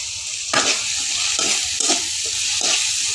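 Shrimp and potatoes cooking with greens in a pan give a close, steady sizzle, and a utensil stirring and mixing the ingredients adds repeated scraping strokes about once a second, with no voices.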